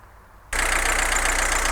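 A 2000 Citroen Saxo 1.5 diesel engine cuts in abruptly after a quiet moment and idles with a loud, steady, clattering rumble close by, heard alone.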